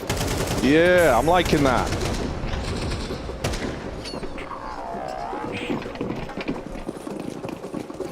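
Rapid gunfire from Counter-Strike in a professional esports match, with AWP sniper shots, a dense burst early that fades into busy game noise beneath a commentator's voice and music.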